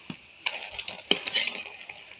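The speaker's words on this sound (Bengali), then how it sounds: "মাটির চুলায় হচ্ছে ডিম ভাজা।" An egg fries on a clay stove with a crackling sizzle. Spatula scrapes and sharp taps against the pan punctuate it.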